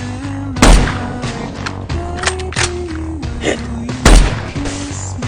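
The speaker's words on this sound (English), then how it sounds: "2 shots ring out, threats eliminated." Two sharp sniper rifle shots crack in a video game, spaced a few seconds apart over a droning in-game musical score, with a brief spoken word between them.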